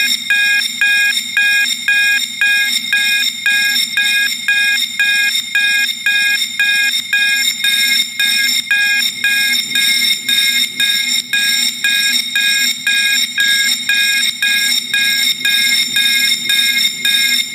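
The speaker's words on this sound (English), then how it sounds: "We want kind of louder fire alarms on the inside." A loud, continuous electronic fire alarm rings inside a gas station building in a video game, pulsing steadily and evenly throughout with no pauses.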